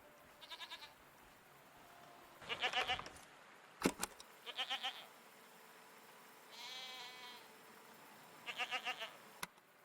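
Several goat-like creatures bleat in the video game Season: A Letter to the Future, four or five wavering, quavering calls spaced across the stretch over a low ambient bed, with a sharp click in between.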